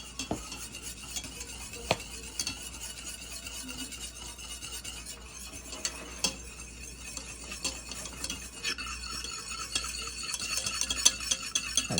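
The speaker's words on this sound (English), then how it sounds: "And we're just stirring." Hot chocolate milk is stirred in a pot with a spoon, giving soft, steady scraping and swirling and occasional light clinks against the metal. It stays quiet and close throughout, with no voices.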